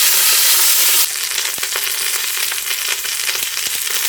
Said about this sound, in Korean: 고기의 모든 면을 바삭하게 구워줍니다.